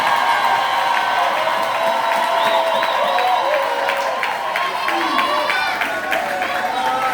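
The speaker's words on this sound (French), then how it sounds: "Est-ce que le peuple de Dieu peut applaudir le Seigneur ce matin?" Church congregation applauding during a Sunday morning service, a steady wash of clapping and crowd noise with a few cheers, sustained and fairly full throughout, with a sung or spoken voice running underneath.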